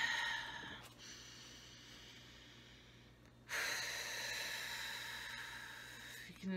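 Slow, deep breaths taken during a guided meditation, each one a soft airy hiss that swells and fades, with a louder, longer exhale arriving partway through, close and quiet with no talking.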